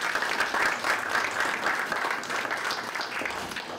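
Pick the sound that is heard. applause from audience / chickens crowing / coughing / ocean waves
applause from audience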